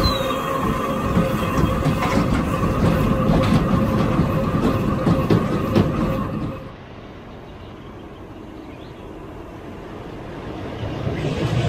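A ladybug-themed Tivoli roller coaster at a German safari park rumbles and clatters loudly along its track, then fades to a quieter stretch before the noise rises again near the end.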